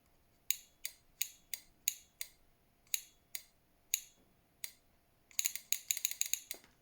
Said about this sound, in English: If we connect the power supply, listen for it go and click